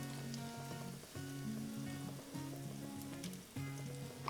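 A fritter wrapped in parchment sizzles steadily in hot frying oil, a constant close crackle running underneath sustained musical tones.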